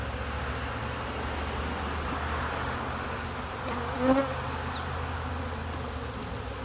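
Honey bees buzz around a beehive in a steady, dense drone, with one louder bee briefly passing close by midway and no voices.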